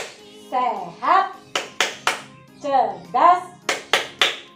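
Children chant in Indonesian at a kindergarten block-play session, breaking into sharp bursts of unison hand claps between the sung phrases, with two sets of three claps each.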